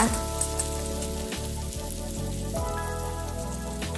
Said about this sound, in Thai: ใส่น้ำมันพืชลงไป พอน้ำมันร้อนใส่กระเทียม พอกระเทียมเริ่มเหลืองใส่กุ้ง เป็นกุ้งแห้งแช่น้ำนะคะ